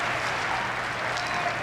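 A partisan crowd at a 1988 vice-presidential debate in Omaha claps and cheers steadily as the candidates shake hands, a dense, sustained wash of applause with no pauses.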